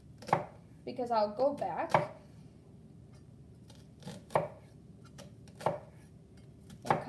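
A knife chops an onion on a cutting board in sharp, evenly spaced knocks, close and clear, while a person talks briefly over the first few cuts.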